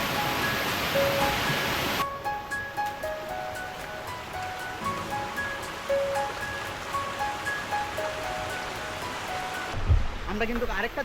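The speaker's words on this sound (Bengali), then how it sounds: "আমরা কিন্তু আরেকটা ঝর্ণার কাছে চলে আসছি, আর এই ঝর্ণাটাও অনেক বড়" A large waterfall on the Napittachhara trail in Sitakunda sends up a steady broadband rush of falling water, loudest in the first two seconds and then continuing more softly under music with sustained tones.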